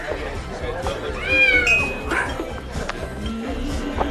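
A little cat meows in a few high, wavering cries, close and moderately loud, over a low background hum and some faint clinks.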